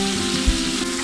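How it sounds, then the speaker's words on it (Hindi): Chicken pieces fry in oil with ginger garlic paste in a karahi, giving a steady close sizzle with one brief stirring thump. "अब इसमें चिकन ऐड कर देंगे। चिकन का कलर चेंज होने तक इसको कुक करेंगे।"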